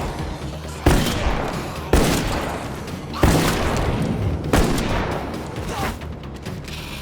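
Shotgun blasts in State of Decay 2, four loud separate booms spaced about a second apart, each trailing into a long rumbling echo, with faint talk underneath.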